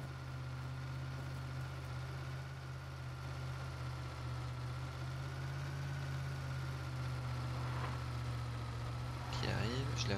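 A car engine idles steadily in a video game as the car arrives, a low constant hum with a faint drone above it, and a brief voice near the end.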